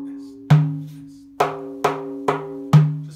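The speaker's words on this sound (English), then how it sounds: "you learn as counting it 3 groups of 2 and 1 group of 3. So 1, 2, 1, 2, 1, 2, 1, 2, 3. And that would sound like this" Frame drum beating a 9/8 rhythm grouped as three twos and a three, five resonant strikes with a deep, booming first accent and brighter, quicker hits after, close up with no other sounds.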